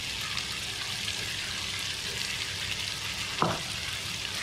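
Fried chicken pieces and prepared masala sizzle steadily in a hot pan, a continuous close crackle of frying for an angara koyla chicken, with one brief scrape or clatter near the end.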